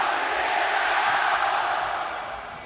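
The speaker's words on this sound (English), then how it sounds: "You can hear the crowd tonight." An esports arena crowd at a League of Legends Rift Rivals 2018 grand final roars in a broad, sustained wash of cheering that eases off toward the end.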